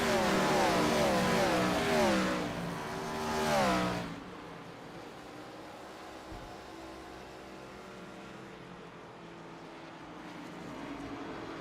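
Stock cars screaming around Bristol's short track in a racing game, a loud engine roar with pitch sweeps for the first four seconds, then a fainter steady drone of cars running on behind.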